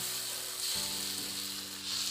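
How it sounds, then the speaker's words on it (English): Precooked smokies sausages fry with other ingredients for Indomie noodles, sizzling steadily in a pan, a dense crackling hiss close by, with a low hum underneath. "it's just frying them together with the other ingredients that I'm going to be using"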